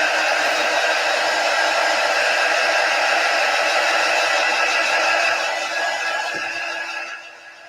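A hair dryer blows steadily over chalk paste on a board, a loud, constant airy roar that fades away over the last couple of seconds as it is switched off.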